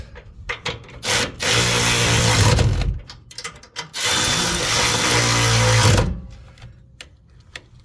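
A power tool tightens 14 millimeter bolts on the air springs of a 2013 Ford F150 in two long, loud, close whirring bursts, each ending with a hammering clatter, separated by short knocks and pauses.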